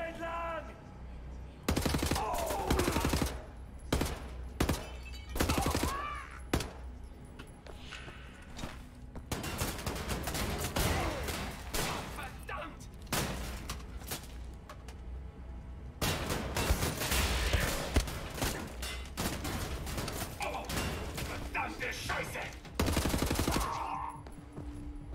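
A shrapnel gun fires in heavy, spread-out bursts in Wolfenstein: The New Order, the loud blasts repeating amid ongoing battle noise, with stretches of quieter footsteps and ambience between volleys.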